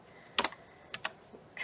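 Several crisp clacks of keys being typed on a computer keyboard while entering data into an Excel spreadsheet, arriving in short bursts separated by brief pauses, close and fairly quiet with no talking.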